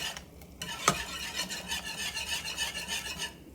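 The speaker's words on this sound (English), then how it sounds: "And we're going to take it and just whisk it in there." A whisk scrapes and rasps rapidly against a pot as roux is stirred into boiling liquid, a close, steady scratching rhythm that carries on for several seconds.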